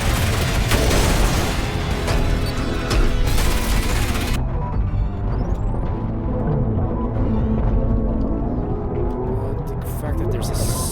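Heavy booming weapon blasts, including the cannonball weapon, in the fast-paced shooter ULTRAKILL. Dense, continuous combat noise with someone talking over it throughout.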